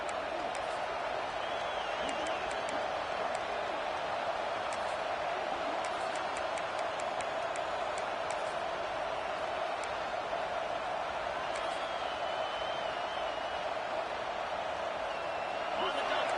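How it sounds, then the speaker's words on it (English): A football stadium crowd roars steadily near the goal line to fire up the defense before a red zone play, a broad distant-sounding wash of noise sustained throughout with a commentator talking over it. "This crowd is trying to inspire this defense to make a big red zone stop"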